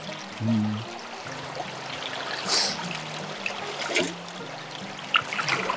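River water trickles and flows steadily at a watershed, a continuous wash with a low hum or engine drone beneath it and a few brief louder splashes.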